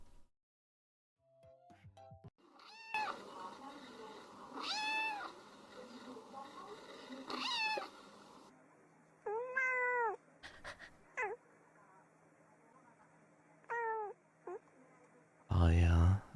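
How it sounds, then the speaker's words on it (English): A cat meows loudly again and again, several long drawn-out calls with short pauses between, close by, with a few brief sounds of someone talking mixed in. "Cat's meowing loudly."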